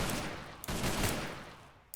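Rapid bursts of Minecraft gunfire crackle loudly and continuously, with a brief gap before another sharp shot at the end.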